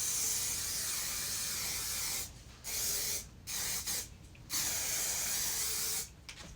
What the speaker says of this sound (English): I'm just gonna spray with some hairspray